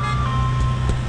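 Ice cream truck passing by, a steady engine rumble with a faint high chime tone running through it for about a second, no voices.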